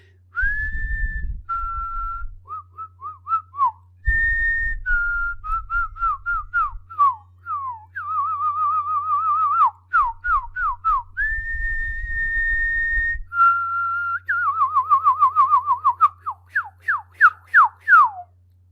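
A person whistles an imitation of a red-winged blackbird call: clear sliding tones, quick warbles and rapid trills in separate phrases over a low steady hum, with no talking.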